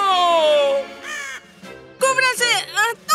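A cartoon crow caws several times in loud, harsh, uneven bursts, following a higher sustained voice-like squawk, with short pauses between calls.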